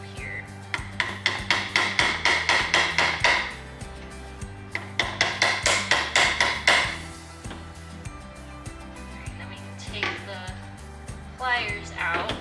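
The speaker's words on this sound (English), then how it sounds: "it helps if you use a little hammer versus like a big giant hammer for this" A small hammer taps a metal clip into a wooden pallet-style board in two quick bursts of about a dozen sharp, ringing strikes each, followed by scattered softer knocks, with someone talking at times.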